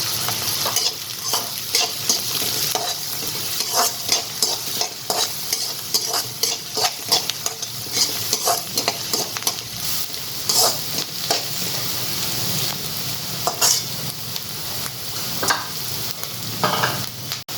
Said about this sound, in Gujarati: હવે આપણે એક કેપ્સિકમ નાખીશું। એને પણ 1 મિનિટ માટે પહેલાં સાતળી દઈશું।